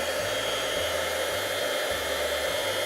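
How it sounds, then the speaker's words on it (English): A heat gun blows steadily to melt embossing powder, a loud, constant airy roar with a low motor hum that persists throughout without speech. "I'm going to take my heat gun and I'm going to heat it up"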